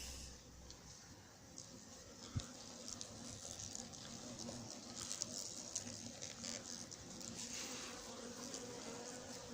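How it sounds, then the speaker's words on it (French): Hornets and bees buzz around an apiary's beehives in a continuous, fairly close droning hum with scattered faint ticks, and a voice speaks briefly underneath. "Deux frelons derrière les ruches derrière, les deux dernières ruches."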